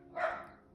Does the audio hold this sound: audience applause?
no